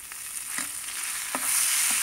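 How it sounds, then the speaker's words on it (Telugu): Asafoetida and grated ginger sizzle in hot oil as spices are tempered for Tamil Nadu-style pongal, a soft, steady frying hiss with a few light stirring clinks, quiet and without talk. "దీనికి పోపు పెట్టేసి కొద్దిగా ఇంగువ వేసుకోవాలండి"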